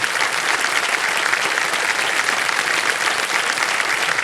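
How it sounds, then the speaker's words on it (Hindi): A studio audience on the KBC quiz show bursts into continuous, dense applause, loud and even from start to finish with no talking over it. "तालियां बज जाए इनके लिए।"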